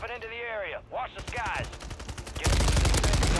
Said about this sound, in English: I hear gunfire to my left